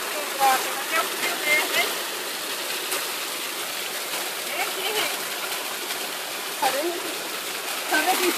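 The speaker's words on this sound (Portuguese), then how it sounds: "Sobe aí na cachoeira também pra tirar foto, Rick." Rushing water of a waterfall at Brotas de Macaúbas, steady and close, with splashes and people's voices chattering over it.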